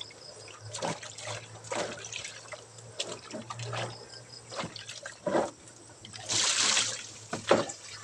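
Fish, freshly cut with the gills removed, is rinsed by hand under running water, giving soft splashes, trickles and drips close by with a louder gush near the end.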